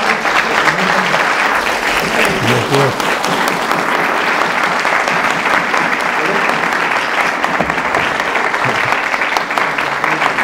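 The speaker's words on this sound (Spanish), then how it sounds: "yo pido una vez más un fuerte aplauso para Roger" Sustained audience applause for historian Roger Chartier at a university humanities doctorate inauguration, dense steady clapping filling the hall at close range, with some voices mixed in.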